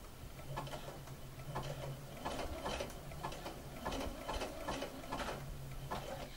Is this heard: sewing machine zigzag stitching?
yes